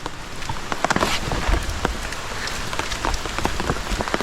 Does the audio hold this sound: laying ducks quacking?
no